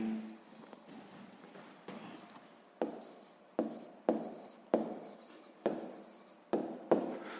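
A pen or pencil scratches across paper while a 6th-grade math answer about sugar content in a solution is written out by hand, in a series of short, close strokes with brief pauses between them.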